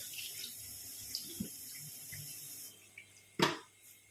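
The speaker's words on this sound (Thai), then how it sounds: "ล้างทำความสะอาดข้างในให้เรียบร้อย" Food with the head cut off is rinsed clean inside under a running kitchen tap, water flowing steadily and faintly, with a few soft knocks and a brief louder splash near the end.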